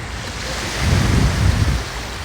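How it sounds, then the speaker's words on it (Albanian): Calm sea waves wash gently onto Kalamaki beach in the morning, a soft continuous surf swelling slightly midway, with light wind rumble on the microphone. "deti sa shumë I qetë"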